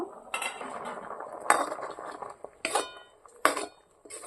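A metal pot lid is lifted and set down while raw mango amsatta cooks, giving four sharp metallic clanks and clatters spaced across a few seconds over a quiet background.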